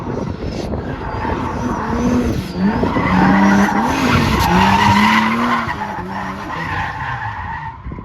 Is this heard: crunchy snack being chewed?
no